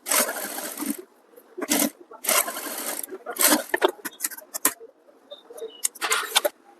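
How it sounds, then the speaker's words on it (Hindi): Sewing machine stitching a strip for a Sabyasachi-style blouse, loud close bursts of rapid whirring stitching that start and stop several times, with short pauses between runs. "हम दोनों साइड एक एक धार सिलाई लगाएंगे।"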